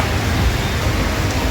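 Heavy monsoon rain pours near the Panvel ST bus depot and flyover, a dense, steady hiss close by with a low traffic rumble underneath.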